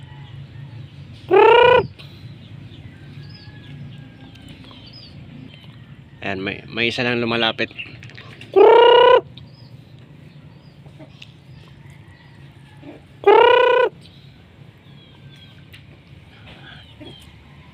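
Pet chickens cluck and call during a morning feeding, three loud separate squawks and a short burst of clucking spread over a quiet yard, while someone speaks softly between the calls.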